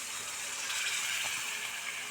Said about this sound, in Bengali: জলটা দিয়ে এবার একটু নাড়িয়ে নেবে